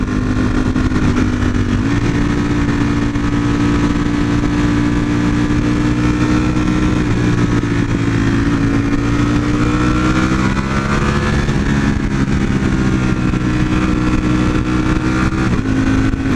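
A Kawasaki ZX14R motorcycle roars along an open road, its engine droning loud and close with a sustained tone that shifts pitch as it revs, plus rushing wind noise.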